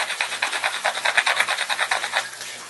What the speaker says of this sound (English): I need to try to sand it down a bit.